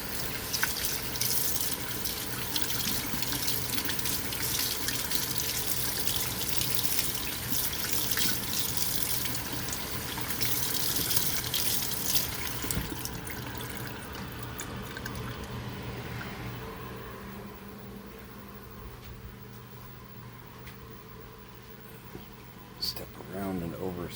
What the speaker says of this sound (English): So I'm gonna wash the brush out real quick.